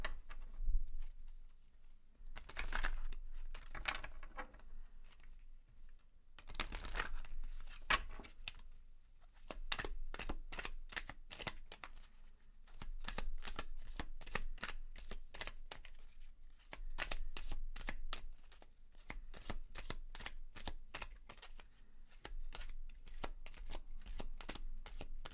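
Oracle cards, including a moonology deck, being shuffled by hand in repeated bursts of rapid riffling flutters separated by short pauses, quiet and close, with no talk.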